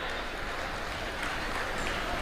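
Audience applause at a ceremony honouring a guest with a shawl and a memento, steady and even clapping from a large crowd that continues without a break and stays at a moderate level throughout.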